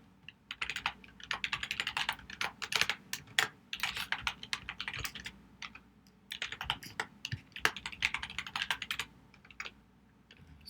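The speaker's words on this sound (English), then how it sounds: "it's going to ask you for your Apple ID, and you're going to want to go ahead and type that in." Someone types on a computer keyboard, entering an Apple ID during an iOS jailbreak setup, with rapid irregular clicking keystrokes close by and only brief pauses.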